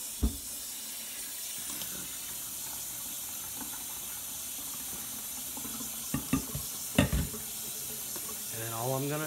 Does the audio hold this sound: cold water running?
yes